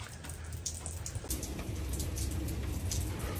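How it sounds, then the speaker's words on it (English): Light rain falls outdoors as a steady close patter of drops on surfaces, growing a little denser partway through, with no talk. "If it's gonna rain today, it better fucking rain all day."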